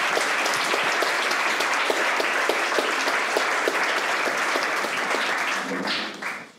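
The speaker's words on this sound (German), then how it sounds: "herzlichen Beifall auch dafür" Sustained audience applause at a business psychology lounge talk, dense and steady throughout before fading out at the end, with a voice beginning to speak as it dies away.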